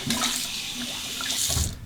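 Hot water running steadily from a tap into a sink to warm a shaving brush before a shave, a close, continuous splashing stream with slight surges and no talking.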